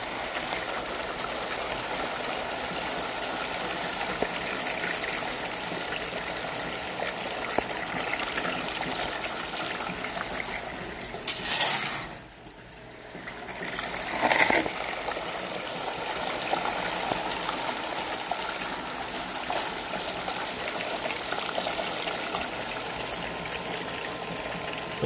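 Water runs down a gold sluice box in a steady, close rush and trickle, continuous throughout with a brief disturbance partway through.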